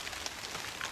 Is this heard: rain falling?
yes